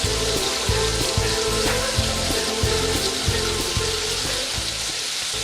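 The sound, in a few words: turkey meatballs frying in a pan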